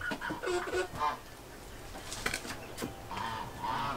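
Backyard chickens cluck and honk in short, irregular bursts nearby, several calls overlapping across a few seconds with no speech.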